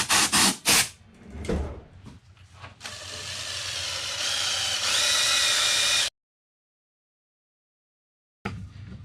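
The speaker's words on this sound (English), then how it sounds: "you can use the drill as well once you get enough in the hard spots" A power drill whirs steadily while cleaning the contact points of a Mazda headlight, a sustained buzzing motor after a few sharp knocks, then it stops and starts up again.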